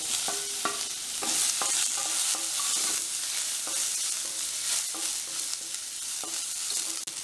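Onions, dried chillies, green chillies and curry leaves sizzle and crackle steadily in a hot pan, with scattered clinks and scrapes of stirring throughout.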